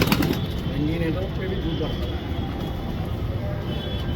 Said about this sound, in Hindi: ये खूब लड़ता दौड़ता हुआ कबूतर है।